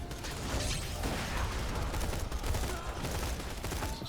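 Gunfire from a weapon in Borderlands 2 played as Maya, rapid repeated shots forming a dense, continuous clatter at steady loudness.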